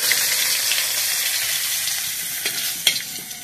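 Panch phoron, dried red chillies and bay leaves fry in hot oil with a steady, dense sizzle and a few stirring scrapes near the end, close and loud, with no voices.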